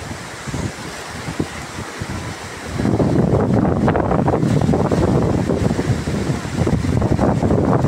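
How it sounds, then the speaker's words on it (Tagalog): Flooded Ilang-Ilang river in Noveleta, Cavite rushing past: a broad, roaring wash of water that swells louder after a few seconds, mixed with wind buffeting the microphone, continuous and close. "Yan po yung ilog ng ilang-ilang."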